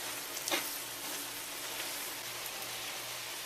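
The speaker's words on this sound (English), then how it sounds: "Fold that all in and stir it, mix it good." Chili being folded and stirred in a pot, a quiet, steady wet bubbling hiss with a brief scrape near the start and no voices.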